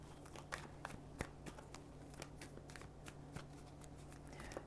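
Tarot cards being shuffled by hand, a steady run of soft, crisp riffles and taps close up, alone with no talking over it.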